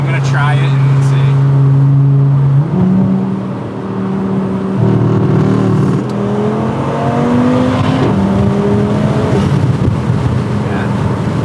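Tuned 600 hp Audi RS3 8Y five-cylinder pulling hard under boost, loud and close from inside, the engine note climbing through several gear shifts with a rushing wind roar over it.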